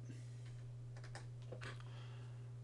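Computer keyboard typing, a few quick faint key clicks in a short burst over a steady electrical hum.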